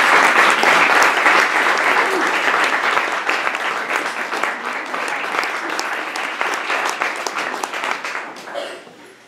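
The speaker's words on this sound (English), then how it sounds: "Can I please ask Ruffert, Amna, and their sons, Kehan and Shamil, to stand up and acknowledge our applause" Sustained audience applause at an academic lecture event, dense and loud at first, then thinning and fading away near the end.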